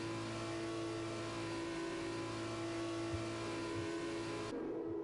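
Formula 2 race cars in the F1 2021 game, running slowly behind the safety car at Portugal, give a steady, even engine drone that holds without much change before cutting off abruptly near the end.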